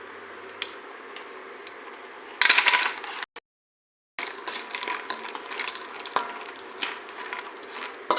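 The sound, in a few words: cashews frying in ghee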